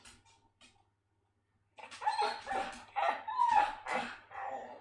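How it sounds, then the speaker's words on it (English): A heavy older dog barks and yips close by in a burst of rapid, uneven barks after a short whine and a pause, loud and mouthy in a quiet indoor room. "No, fat dog."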